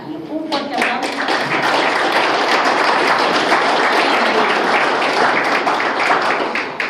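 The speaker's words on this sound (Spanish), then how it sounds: "Con todos nosotros, el poeta del pueblo, Darío Montaño. Un fuerte aplauso." Loud, full audience applause for the poet at a popular panel event in Venezuela, dense clapping sustained throughout, rising at the start and holding strong to the end.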